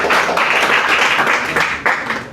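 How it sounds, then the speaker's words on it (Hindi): An audience gives loud, sustained applause for a candidate selected into the Indian Army. The dense clapping holds steady for the whole stretch, with no talk over it. "हम चाहते हैं कि उनके लिए आप जोरदार ताली बजाएं"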